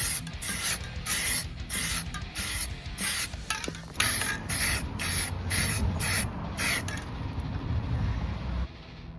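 An aerosol can sprays paint onto a Motobilt license plate relocation bracket for a Jeep TJ in short, repeated hissing bursts close by, with brief pauses between passes and no talk.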